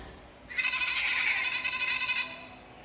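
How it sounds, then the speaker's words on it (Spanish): A goat bleats once in a long, wavering, quavering cry that holds for about a second and a half before fading, heard clearly and alone against a quiet background. "es el sonido de una cabra."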